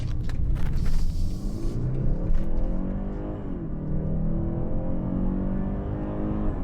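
A 2021 BMW 430i with a turbocharged inline four-cylinder engine accelerates on the road, giving a deep, steady rumbling drone that climbs in pitch, drops briefly at a shift, then rises again, heard from inside the cabin.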